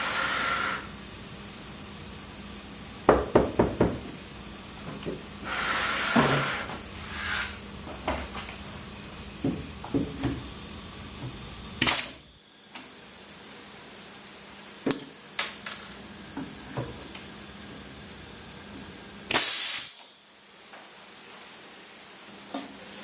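Wooden drawer stops being glued and fixed with a brad nailer in a workshop; several sharp, separate pops and knocks stand out against a steady low hiss, with occasional thumps of handling and no voices.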